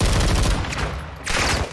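Rapid bursts of automatic gunfire from a heavy-damage gun in the Call of Duty Modern Warfare 2 campaign, loud and close, crackling steadily for under two seconds with a brief lull midway.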